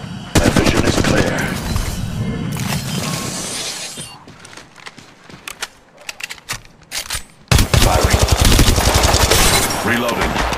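Apex Legends Mobile gunplay: loud sustained automatic bursts and crackling rounds, dropping to scattered single shots in the middle before a heavy barrage returns.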